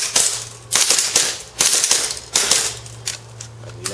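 An airsoft pistol fires in a reloading drill, several sharp snapping shots spaced unevenly over a few seconds, close and fairly loud, with a low hum in the background and no talk.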